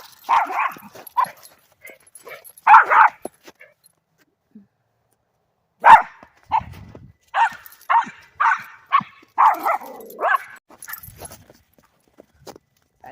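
A dog outdoors in Alaska barks excitedly in bursts at a car passing by, sharp yaps and whimpering yips spaced by short pauses, fairly near and alone without talk.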